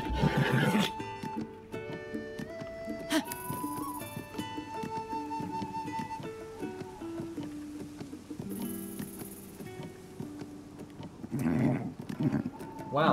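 Horse in Zelda: Tears of the Kingdom whinnying loudly at the start and again near the end, set against tonal game music and soft hoof and action effects throughout.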